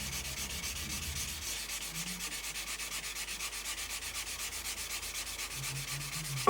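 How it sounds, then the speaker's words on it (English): Sandpaper is worked gently over paint along a seam on a Revell 1/32 Messerschmitt Bf110 C-2 plastic model kit. The strokes make a steady, close, even rhythmic rubbing hiss throughout, with no talking. "is to just gently sand away"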